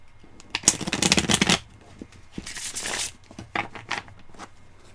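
A deck of angel reading cards being shuffled up close, with several bursts of riffling and flapping card noise separated by brief pauses.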